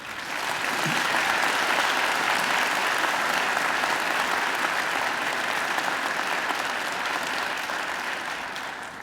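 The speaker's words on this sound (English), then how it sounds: "She deserves another great round of applause" Another great round of applause for a singer at a university graduation ceremony, a large audience clapping loudly and steadily throughout.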